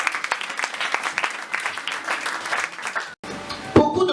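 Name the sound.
congregation applauding to acclaim the Lord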